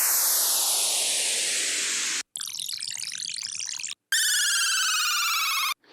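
A riddim sample-pack downshifter effect sweeps downward in a long noisy drop, followed by a burst of glitchy noise and a bright buzzing tone, all synthetic and loud with no voices.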